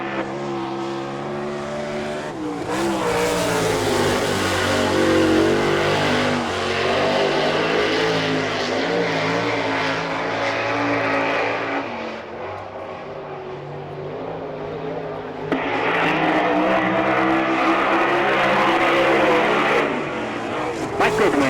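Sprint cars of the All Star Circuit of Champions roar together at a green-flag restart at Selinsgrove, Pennsylvania, a loud sustained multi-engine drone rising in pitch, with an announcer talking over it.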